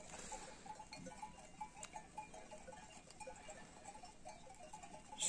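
A scattered flock of sheep and goats grazes on a hillside pasture. Faint, distant bleats and the occasional clink of bells carry over a quiet, airy background.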